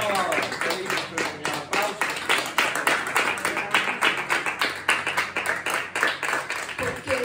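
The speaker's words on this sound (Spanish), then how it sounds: "Dale ahí aplausos a tu Dios." Church congregation clapping in a quick, steady rhythm throughout, with singing and worship voices mixed in.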